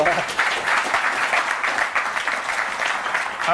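A live pitch-competition audience claps steadily in a dense, sustained round of applause that fills the room at an even volume from start to finish.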